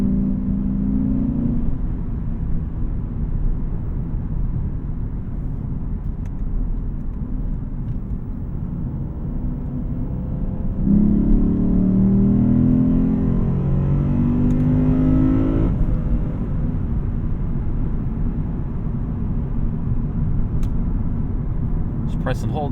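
A 2024 Lexus IS500 F Sport driven on a back road, its engine a loud continuous drone that swells and rises in pitch mid-drive before easing, heard from inside the cabin as someone talks over it.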